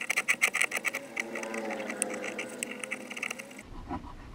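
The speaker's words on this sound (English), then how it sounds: "I'm gonna try the chisel" A chisel works a bloodwood fillet knife handle with a quick series of sharp scraping strokes, rapid at first then settling into a longer grinding scrape, close up, before the sound stops.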